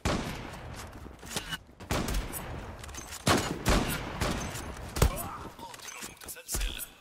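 Gunfire in the online shooter Zula: bursts of sharp shots scattered through the stretch, some close and loud, others thinner and more distant, with a voice talking over the action.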